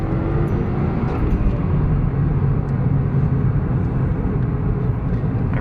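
A Nissan Skyline GT-R drives along with a loud, steady engine rumble and road roar from inside the car, with no clearly separate shift breaks.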